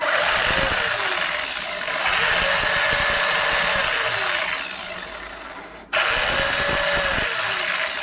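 A small electric 540-size 27-turn stock motor in an RC truck whines steadily at high pitch, briefly dipping and cutting out before spinning back up, loud and close.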